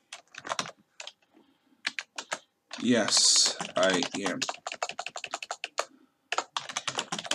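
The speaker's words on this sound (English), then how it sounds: "Dang it, my keyboard's not working." Someone types on a computer keyboard while playing Minecraft, tapping out quick bursts of close, crisp key clicks with short gaps between them, and a voice breaks in briefly partway through.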